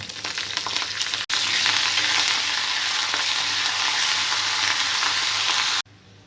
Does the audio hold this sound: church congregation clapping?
no